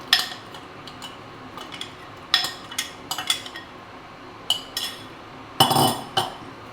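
Spoon clinking against a blender jar while mango pulp is scooped in, a series of sharp, close taps and scrapes in irregular clusters with a louder clatter near the end, no talking.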